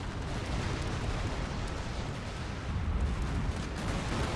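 Four Gatling guns fire together in the Total War: Fall of the Samurai battle game, a dense, continuous rumbling barrage of rapid shots and booms with no pauses.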